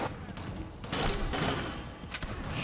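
Pistol fire traded at range in the video game Shadowrun, a dense, busy volley of shots with thuds, mid-level and continuous across the whole short stretch.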